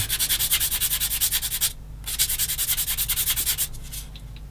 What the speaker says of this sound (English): I'm just going to do sanding because I might as well do it straight over the bench.